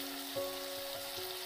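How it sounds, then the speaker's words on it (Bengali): Masala fries in oil in a pan for a masoor dal pakoda curry, a faint, steady sizzle with a low tonal hum in the background. "এটা যতক্ষণ তেল ছাড়ার মতো হবে ততক্ষণ এটাকে ফ্রাই করে নিলাম"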